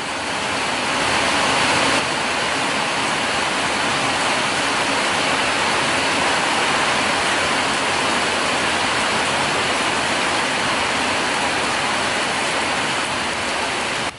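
Heavy pouring rain roars steadily and loudly throughout, a dense, unbroken wash of noise with no voices.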